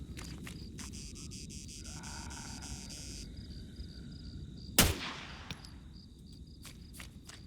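A single sharp gunshot cracks out in the zombie survival game BreakingPoint, cutting through a faint, low ambient rumble and soft electronic tones, then fading into a brief echo.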